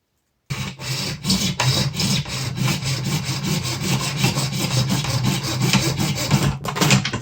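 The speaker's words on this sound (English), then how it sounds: "So let's go ahead and cut this piece off." A small saw cuts a piece off a plastic Bic lighter in rapid back-and-forth strokes, close and loud, a steady rasping rhythm lasting several seconds after a short silent start.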